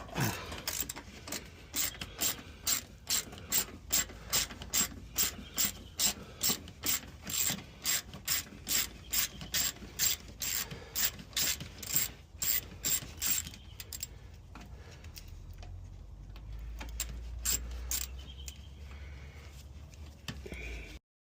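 A ratchet wrench clicks in a quick, steady run of about two dozen loud, close ratchet strokes while loosening a bolt on a wrecked car's fender, then falls to a quieter rumble with faint scraping.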